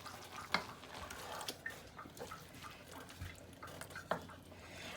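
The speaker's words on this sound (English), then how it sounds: "I'm going to use a regular spoon now for stirring. So I'm just going to stir this all up." A spoon stirring mild chili ingredients in a pot, giving soft scraping and sloshing sounds with a few brief clinks against the side, close and fairly quiet.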